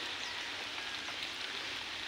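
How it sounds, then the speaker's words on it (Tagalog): Typhoon rain hisses in a steady, dense patter close by, faint and unbroken with no voices. "Nauulan-ulan pa."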